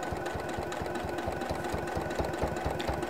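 A sewing machine stitches binding onto a quilt, producing a fast, steady mechanical chatter of needle strokes, close and continuous throughout.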